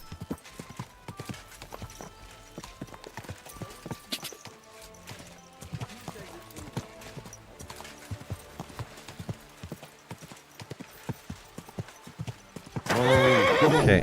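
Horse hooves clip-clop steadily in Kingdom Come Deliverance II, a medieval open-world game, with occasional whinnies over a game music score; the steps stay close and regular, and a burst of louder noise closes out the final second.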